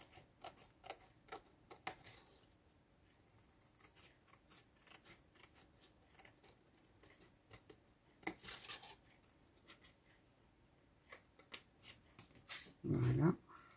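Scissors cutting out a paper label for an autumn moodboard, quiet repeated snips and crisp paper rustles in an irregular rhythm, with a louder clatter near the end.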